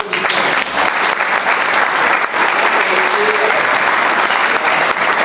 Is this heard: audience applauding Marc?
yes